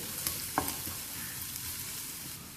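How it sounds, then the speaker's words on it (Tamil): Garlic sautés in butter in a pan, giving a faint, steady sizzle throughout with a couple of light stirring taps and no talking. "இந்த பூண்டோட வாசனை வர வரைக்கும் நம்ம வதக்கணும்"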